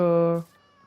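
A single short meow from a cat in the Minecraft video game, clear and close, cutting off abruptly after under half a second.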